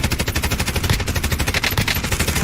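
An MK9 light machine gun in Call of Duty Warzone fires a loud, sustained rapid burst of evenly spaced shots, continuous and close, with no talking.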